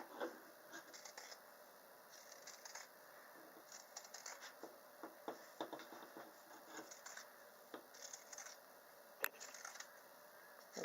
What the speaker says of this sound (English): Grab your shears